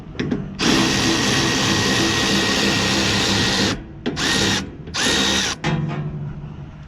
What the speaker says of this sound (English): Gotta love power tools.